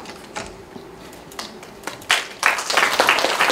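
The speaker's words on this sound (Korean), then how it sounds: "박수로 격려해 주십시오" Audience applause at an appointment ceremony for a poetry and literary association's academy, with scattered claps that swell into fuller, denser clapping toward the end.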